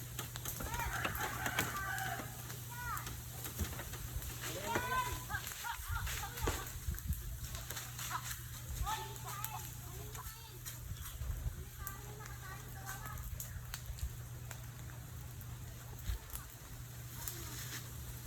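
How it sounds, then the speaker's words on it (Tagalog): Roosters fighting on a farm cluck and squawk in agitated bursts amid a low steady hum, with people talking nearby throughout. "Sinasabong yung manok."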